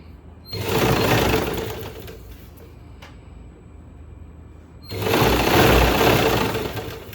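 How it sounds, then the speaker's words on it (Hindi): Sewing machine stitching a folded waistband on a pair of straight pants, two loud bursts of running stitches separated by a quieter pause with light handling noise. "इसी तरीके से हम सिलाई लगाना शुरू करेंगे।"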